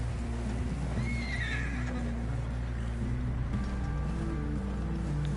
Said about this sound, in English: Mierda, Javier, súbete rápido el puto caballo